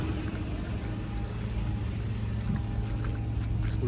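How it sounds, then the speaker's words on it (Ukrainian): Steady low engine rumble of an idling Volkswagen Golf 5, even and continuous throughout with a faint higher whine, no voices. "Двигун чуєте працює ідеально."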